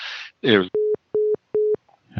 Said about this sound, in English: Was that actually like a hang-up notification?